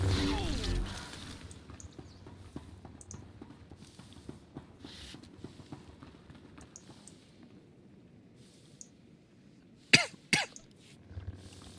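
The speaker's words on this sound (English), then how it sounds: "Sorry about the coughing." Faint background clatter and light tapping, then a couple of sharp coughs near the end, close by, with quiet shuffling afterward.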